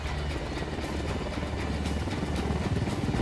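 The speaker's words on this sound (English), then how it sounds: "Helicopter, get down." A helicopter in the Ghost Recon Wildlands game approaches, its rotor chop thrumming loud and continuous as it grows steadily stronger, with no voices over it.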